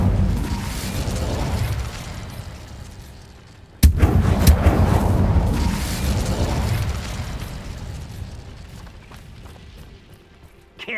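Incendio fire spell cast in Hogwarts Legacy near a thestral nest: a loud roaring, rumbling burst of flame that erupts sharply, sustains and slowly fades, followed by another sudden burst.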